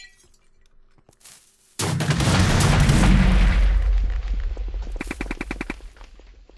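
A sudden loud burst of rapid machine-gun fire from a video-game gunship erupts and rattles on, with crashing, shattering debris and metallic clinks.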